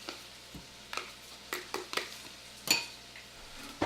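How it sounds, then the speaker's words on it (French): A utensil stirs a mascarpone mixture in a bowl for a Valentine's dessert, giving a series of separate scrapes and light clinks at an irregular, unhurried pace, close and fairly quiet with no talking. "On va prendre un bol pour mélanger ça."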